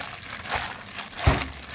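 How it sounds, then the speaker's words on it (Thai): Hands squeeze and mix a Lao vegetable salad (soup phak) topped with roasted peanuts and sliced spring onion, giving soft close crinkling and squelching rustles with one sharper crunch near the end. "ทีนี้เราก็ใช้มือขยำเลยนะคะ"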